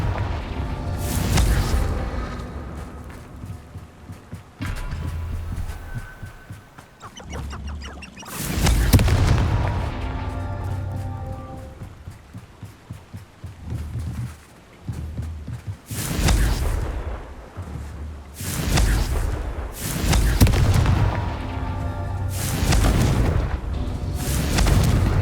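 Repeated Confringo blasting-curse explosions in the video game Hogwarts Legacy, a series of loud booming blasts in irregular bursts that rise sharply and then decay with rumbling tails over continuous game ambience.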